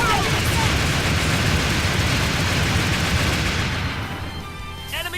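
Gunfire rings out in the video game Dark Rose Valkyrie, a dense, loud, sustained volley of shots that eases off near the end, with game voices underneath.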